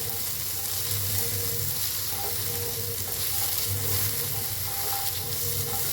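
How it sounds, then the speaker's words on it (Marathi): Onion, ginger, green chillies and garlic fry steadily in oil in a pan for an egg masala curry, a continuous close sizzle with occasional stirring scrapes and no talk. "हलवून भाजून घेऊया कांदा लालसर कलर येऊस्तर"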